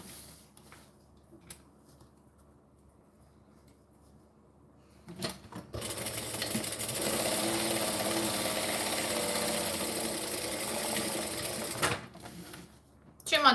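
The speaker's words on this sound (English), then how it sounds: "Too much backstitching just then" A sewing machine runs a long backstitching pass on reptile-print fabric, a steady close mechanical whir of about six seconds, with a few clicks before it starts and some speech around it.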